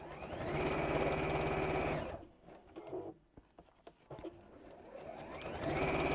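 A domestic sewing machine stitches in a fast, steady whir, stops for a few seconds with small clicks and handling noises, then runs up to speed again, close and with no one talking.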